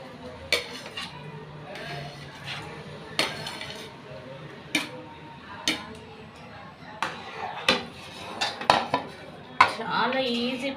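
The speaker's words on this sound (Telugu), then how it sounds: "తర్వాత కోసి పెట్టుకున్న ఆలుగడ్డలు ఉన్నాయి కదా, అవి వేయాలి అందులో." Cut potato pieces are dropped into a pan of masala curry. There are scattered clinks and scrapes of metal utensils against the pan, with a quiet voice speaking in the background.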